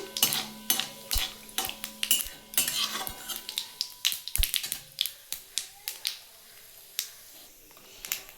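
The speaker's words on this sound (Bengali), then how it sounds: "সাদা জিরে দিয়ে ফোড়নটা একটু ভালো করে ভেজে নিচ্ছি" Cumin seeds and slit green chilies tempering in hot oil: a light sizzle at first, then a run of crisp, irregular clicks and taps of a utensil against the pan, close and fairly quiet.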